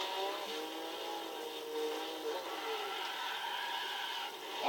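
A Tommykaira ZZI '00 sports car in Gran Turismo 6, its engine droning at steady high revs with a whirring tone that holds throughout and rises briefly at the end.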